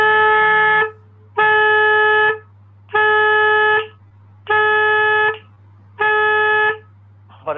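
A saxophone plays five separate sustained notes at one pitch, each held for about a second and cut off cleanly, with short silences between them, in a start-and-stop articulation exercise, close and loud with no talking.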